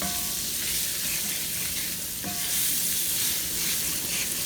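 Flour cooking in a frying pan for gravy, a continuous close sizzle with the steady rustle and scrape of stirring across the pan bottom.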